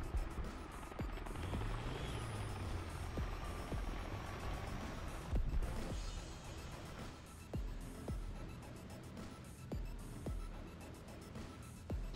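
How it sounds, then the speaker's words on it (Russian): Helicopter in the War Thunder tank battle game flying nearby, a steady low rotor drone with periodic thumping pulses throughout, fairly even in loudness. "Вертолет летит."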